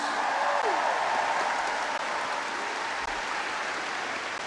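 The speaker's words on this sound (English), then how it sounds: "Give them a round of applause" Concert audience at the Limerick Peace Proms applauding the choir, a broad continuous roar of many hands in a large hall, even and sustained throughout.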